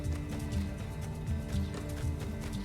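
Horse hooves clip-clop in a steady trotting rhythm in the video game My Time at Sandrock, set close against continuous game music and ambience, with no voices.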